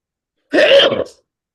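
A single short sneeze or throat-clearing burst, loud and close, lasting about half a second and surrounded by silence.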